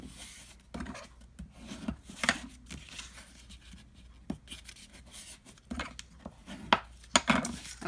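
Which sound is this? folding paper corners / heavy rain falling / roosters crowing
folding paper corners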